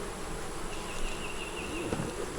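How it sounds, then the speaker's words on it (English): Honey bees drone softly around a hive being worked, a faint steady buzz with one bee briefly passing nearer. "There's a lot of bees on the bottom."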